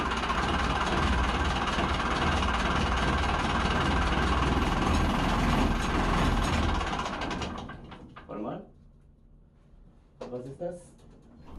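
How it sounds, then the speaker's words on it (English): An old engine on a vintage yacht under restoration runs steadily just after starting, a loud continuous rumble that cuts off after several seconds, followed by quiet with brief clatters. "the engine started right away after a single turn of the starter motor."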